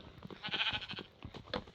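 A lamb in the video game Minecraft gives a short, nasal bleat, a couple of wavering calls close by and fairly soft, with no talk over it.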